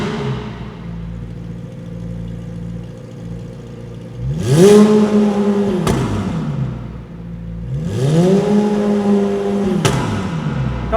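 A McLaren 765LT's engine is revved hard through a titanium or stainless exhaust: two loud, separate bursts climb, hold briefly and fall back over a steady idle, with no talking.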